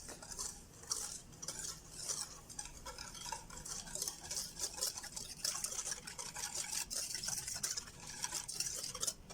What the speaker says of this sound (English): our half cup of sugar. Just give it a little whisk.